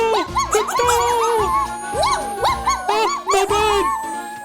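A cartoon dog gives a rapid series of high, yelping barks in quick bursts, loud and close, repeating several times.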